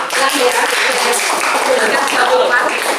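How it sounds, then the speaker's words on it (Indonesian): Students clapping in a Year 12 music class in an Indonesian school, a short burst of dense, close applause that fills the room, with some voices mixed in. "Tepuk tangan untuk"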